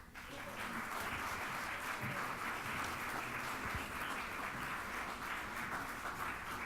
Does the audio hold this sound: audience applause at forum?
yes